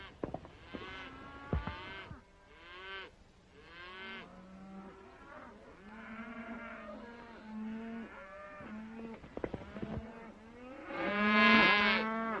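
Cattle mooing in a meadow, with several drawn-out lowing calls from different animals, some near and some farther off. The loudest moo comes near the end, over a quiet outdoor background.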